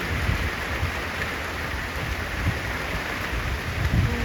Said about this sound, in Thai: ฝนตกให้ขึ้นเลย